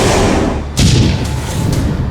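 Heavy artillery fire: several deep booms in quick succession over a constant low rumble, loud and close.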